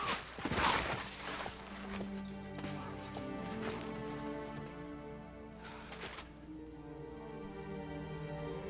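Horse hooves clip-clop in the video game Kingdom Come: Deliverance 2, a rhythmic trot mixed with other game sounds, with some voice faintly in the background.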